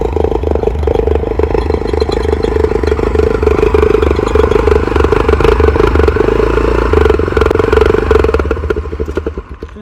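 Motorcycle engine idling through a small silencer, a steady, loud, close low-pitched rumble with rhythmic thumping pulses throughout, briefly shifting tone midway and fading slightly at the end.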